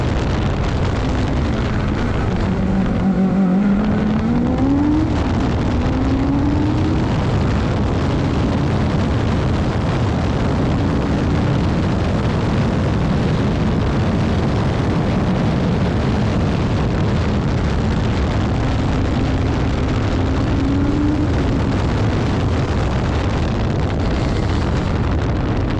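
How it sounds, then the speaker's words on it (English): The Sierra Alpha race car at Pikes Peak roars loud and close with its engine misfiring, a rough, uneven blare with popping bursts that runs steadily throughout. "You'll hear the thing misfiring constantly, and we just can't get it off."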